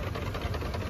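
A 4-inch scale Sentinel DG4 steam wagon, built in Ireland and restored, running at the Lincoln steam rally, giving a brief, low, rapidly pulsing engine chug heard at moderate distance.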